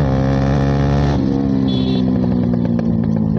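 A Bajaj Pulsar NS200 motorcycle with a loud aftermarket exhaust roars close by, its deep, raspy revving filling the opening second before it drops to a lower, rough rumble.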